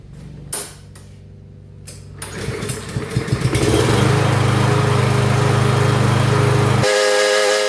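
A Yard Machines push lawn mower is pull-started: a couple of cord yanks, then the small engine sputters and catches into a loud, steady running drone that holds for several seconds before cutting off abruptly.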